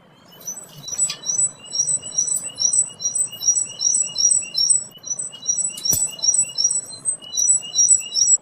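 A tit sings a rapid, high series of thin chirps that repeat steadily and fairly close, with a faint rustle beneath and one sharp click partway through.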